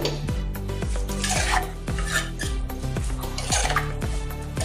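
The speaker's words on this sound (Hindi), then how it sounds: "अभी अच्छे से मिक्स कर लेंगे" A spoon scrapes and clinks rhythmically against a pan, stirring pav bhaji masala steadily over a low sizzle, close and fairly loud with no talking.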